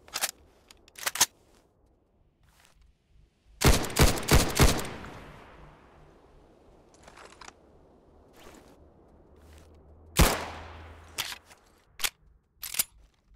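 Gunfire in the horror shooter True Stalker: a few sharp single shots, then a loud rapid burst of several rounds, with more isolated cracks and a later heavy blast spaced through otherwise quiet stretches.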